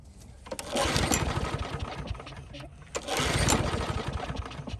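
A Craftsman lawn mower engine being primed and pulled to start gives two bursts of close, rough engine chugging, each cranking briefly and then dying away. Talk can be heard around them.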